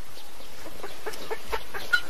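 A hen clucking in a series of soft, quick, fairly faint calls over a steady background hiss, with no talking.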